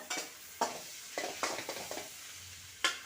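Curry leaves, green chilies and tomato sautéed with a spatula in oil for chicken curry, several sharp scraping and stirring strokes over a soft sizzle, close and fairly quiet with no talk.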